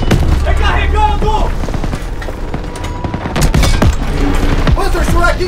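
Rapid gunfire and explosions from a World War II shooter game crackle loudly in dense bursts, with soldiers shouting orders over the battle throughout.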